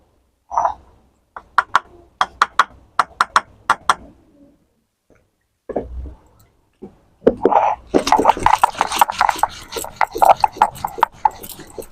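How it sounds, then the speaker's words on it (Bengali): Ginger, four green chillies and a spoon of white cumin are being ground into a paste. Sharp rhythmic knocks come first, and after a pause they give way to a dense, continuous scraping and pounding, loud and close. "ততক্ষণে আমি এই মশলাগুলোকে বেটে নেব এই রান্নার জন্য"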